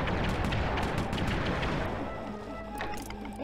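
Rapid gunfire from a weapon that does not overheat in the action video game Sly 3: Honor Among Thieves, a dense, continuous burst of shots and booms that fills the whole stretch and then tapers slightly.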